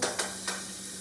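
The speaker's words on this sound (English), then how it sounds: "And while that's sizzling" Steady oil sizzle of minced garlic in a hot pan with a couple of scraping stirs near the start, close up and continuous.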